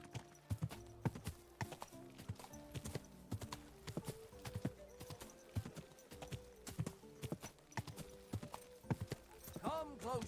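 Horse hooves clip-clop on ground in the video game Kingdom Come Deliverance II, a brisk regular stream of hoof strikes close by, with faint tonal game sounds and a snort near the end.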